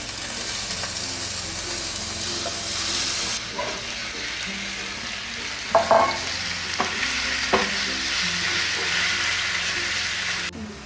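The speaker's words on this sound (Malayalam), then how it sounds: "നമുക്ക് നമ്മുടെ ചിക്കൻ ഒന്ന് ഫ്രൈ ചെയ്യാൻ വേണ്ടി ഇടുക." Chicken pieces frying in hot sunflower oil, a continuous loud sizzle close by with several scraping stirs and clatters partway through, running unbroken before cutting off abruptly at the end, no talking.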